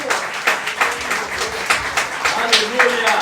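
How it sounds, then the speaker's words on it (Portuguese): Congregation applauding during a Portuguese-language church service, a dense wash of clapping hands with periodic louder bursts, steady and fairly close, with a voice audible beneath it. "Aplauda esse Deus."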